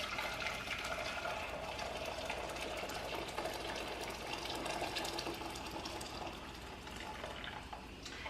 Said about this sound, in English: I'm going to go ahead and add my boiling water to this pot.